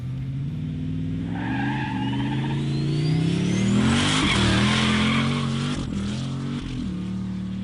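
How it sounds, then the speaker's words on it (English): Turbo LS-powered VL Commodore race car accelerating hard, its engine note climbing through the revs with a rising whine, then shifting and pulling again, loud and close. "Justin Schmidt in the turbo LS-powered VL Commodore from Hoomtune came to have fun"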